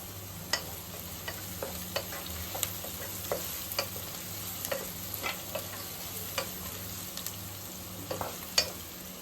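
Onion, green chillies and curry leaves fry in a pan with a steady, soft sizzle, broken by small scattered pops and occasional stirring clicks; no voices.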